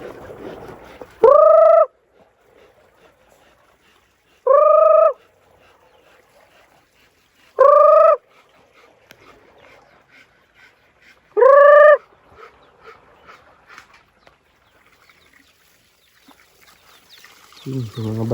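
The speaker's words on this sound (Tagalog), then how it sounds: "Ayun o, mga maliliit na mga manok ko." Small bantam chickens on a farm giving four loud, separate calls spaced a few seconds apart, each a short ringing burst over quiet background, with a voice starting at the end.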